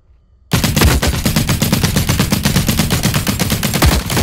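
Rapid automatic gunfire in the game The Cycle: Frontier bursts in loudly after a brief silence, a dense, steady stream of close shots firing continuously to the end.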